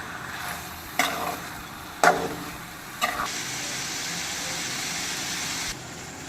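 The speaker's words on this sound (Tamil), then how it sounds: "இதை நல்லா கிளறி விட்டுக்கலாம்." A spoon stirs pepper chicken in a hot pan, scraping the metal in three distinct strokes about a second apart, followed by a steady loud sizzle of frying that runs on for several seconds before cutting off.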